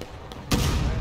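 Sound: cannon firing in video game War of Rights

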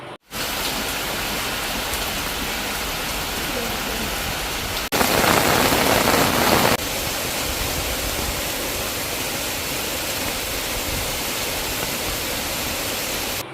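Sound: rain falling

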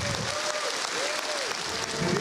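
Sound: audience applauding

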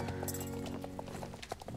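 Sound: horse hooves clip-clopping in a video game

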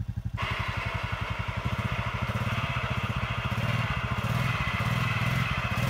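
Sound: Honda Foreman ATV engine and winch pulling in snow

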